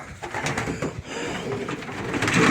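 Several pigeons coo and murmur together at close range, soft throaty rolling sounds overlapping continuously with faint rustling of wings and bodies.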